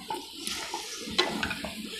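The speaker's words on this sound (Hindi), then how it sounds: "थोड़ा सा इसमें वाटर ऐड करना है" Water poured into a pan of simmering spaghetti sauce made with chicken, tomatoes and red chili: soft, faint splashing and trickling with a few small splats, close by and without any talking.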